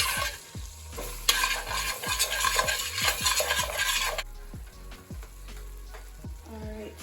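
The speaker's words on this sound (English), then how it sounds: "We're going to add the flour to make a roux to thicken the sauce." Flour stirred into about a quarter cup of hot fat in a pan to make a roux for a classic French beef stew: rhythmic spoon scrapes over a soft sizzle, with a louder hissing stretch early on.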